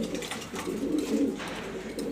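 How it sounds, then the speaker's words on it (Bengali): A top-quality female grizzle pigeon coos in soft, throaty, rolling murmurs, close by and continuous, with light rustling around it. "এটা মাদি কবুতর এটা মাদি কবুতর সোভিয়ার্স গ্রিজেল টপ কোয়ালিটি"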